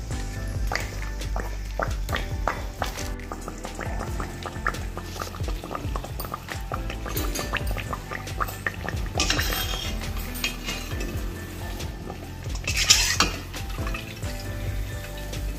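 Appalu dough balls bubble and crackle in hot oil as a naivedyam offering, a dense, continuous frying noise with occasional metallic clinks of a utensil against the pan.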